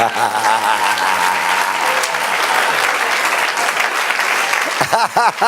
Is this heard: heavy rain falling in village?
no